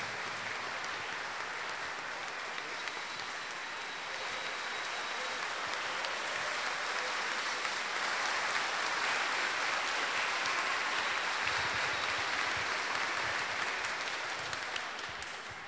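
A church audience applauds to welcome a priest, a dense, steady wash of clapping that holds for about sixteen seconds and swells slightly midway, with no voices over it.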